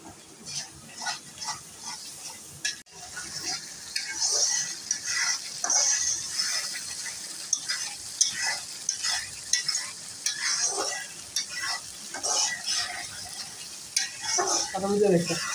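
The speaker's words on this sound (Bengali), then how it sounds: "পানি দিয়ে মশলাটা ভালো করে কষাই নিব।" A spice paste thinned with water is stirred and fried in a pan for mustard hilsa, giving a busy, crackling sizzle with frequent scraping stirs throughout.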